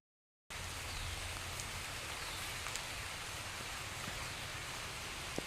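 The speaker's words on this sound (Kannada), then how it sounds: "ನೋಡಿ ಮಳೆ ಸ್ಟಾರ್ಟ್ ಆಯಿತು" After a moment of silence, steady rain starts and hisses evenly, a soft, constant patter with a few louder drops.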